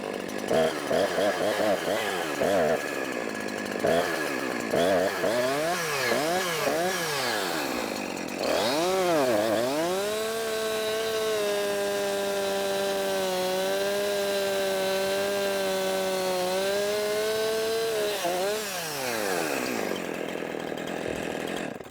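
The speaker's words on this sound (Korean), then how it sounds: "기계톱으로 나무를 베었습니다" Chainsaw runs close and loud, revving up and down repeatedly, then holding a long steady high whine while cutting an acacia tree before easing off.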